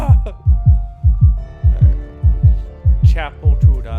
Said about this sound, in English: God, that's just like my normal heartbeat.